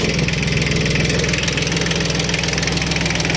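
A tractor engine idles steadily at close range, a loud, even, throbbing mechanical drone with a regular pulse that holds unchanged throughout, with no voices.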